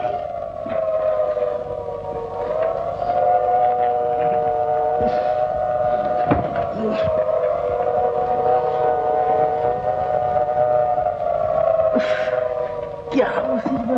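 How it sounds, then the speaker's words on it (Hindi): A steady, sustained whistle with a layered tone holds for about fourteen seconds with small pitch wavers, against a noisy background in a Hindi film scene where the call is a work or factory whistle rather than a train's. "सीटी कब की बज रही है?"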